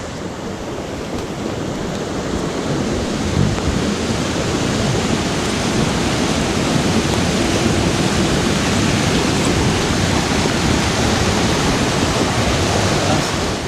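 A rushing mountain stream pours through pocket water on a small Pennsylvania blue line brook, a loud, steady broadband roar with no breaks and no voices.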